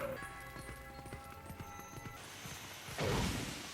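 A horse gallops in Zelda: Twilight Princess, quick rhythmic hoofbeats over the first two seconds, followed by a louder noisy whoosh.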